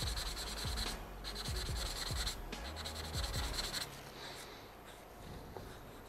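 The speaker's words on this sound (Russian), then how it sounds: "как-то очково даже тереть этот лак" A hand works sandpaper back and forth over a lacquer finish that covers filler, making rhythmic close rasping strokes for several seconds before easing into a softer, steadier rub.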